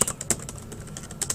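Rapid clicking keystrokes on a computer keyboard, a quick irregular patter of taps heard close up with no talking.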